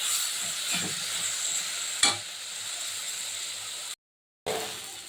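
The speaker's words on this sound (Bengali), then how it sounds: "এবারে আমি এমনি করে নেড়ে দিই" Amrul greens frying and being stirred in a pan, a steady loud sizzle with a clack of the spatula partway through and a brief cut to silence near the end, no voices.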